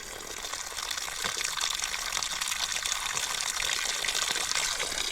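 Water gushes and splashes steadily and fairly loudly, a dense rushing flow that swells slightly after the first second and holds for several seconds with no voices.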